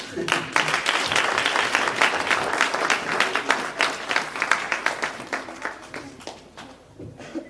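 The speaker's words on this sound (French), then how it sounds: "On peut applaudir si on veut" An audience at a baptism celebration bursts into dense, sustained applause that gradually thins toward the end into scattered individual claps.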